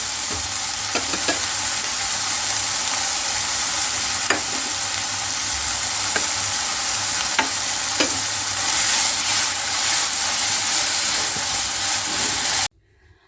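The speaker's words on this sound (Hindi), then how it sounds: "कीमे को मजीद 2 मिनट तेज आंच पर भुनेंगे।" Chicken achari qeema sizzling and frying steadily in a pan over high flame, with a constant broad hiss and occasional soft stirring clicks throughout, ending abruptly.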